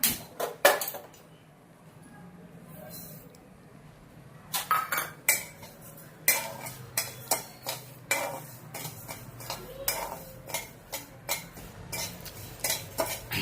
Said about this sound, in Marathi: पहिल्यांदा आपण भगर भाजून घेऊया